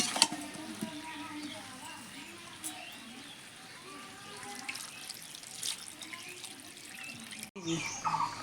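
Water poured into a cooking pot of yogurt-braised jackfruit curry, a soft splashing pour over faint sizzling, with a louder burst of water near the end, close and fairly quiet.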